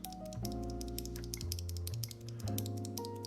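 Swag Keys Sacramento mechanical keyboard switches, a recolor of Meteor Whites, are pressed by hand in quick uneven clicks and clacks, close and fairly loud, with no voice.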